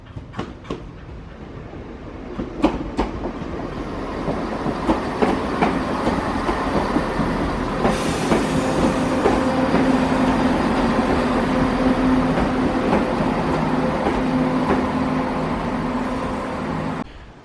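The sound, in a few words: train passing at a station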